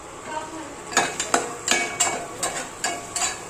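Spices frying in oil in a pan for a mung bean curry, a steady faint sizzle under repeated clinking of a metal spoon against the pan, close and rhythmic.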